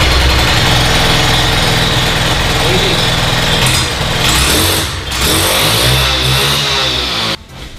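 Makita EK7651H petrol concrete cutter, just started after choke removal, running loud and close with a buzzing two-stroke idle and some revving, cutting out abruptly near the end.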